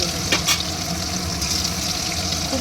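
Fish pieces frying in hot oil on a medium-to-low flame make a dense, steady sizzle and crackle up close, with a couple of brief louder spatters near the start and no talking.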